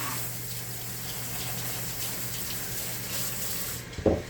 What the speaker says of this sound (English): I'm just washing my knife off so I can cut some strawberries.